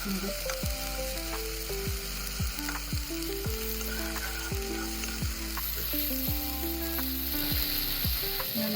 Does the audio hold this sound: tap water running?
no